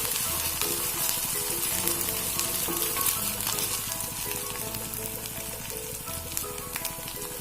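Tomatoes, ginger and garlic sauté in a hot pan for a quail egg roast, giving a dense, continuous close sizzle with light crackles that eases slightly toward the end.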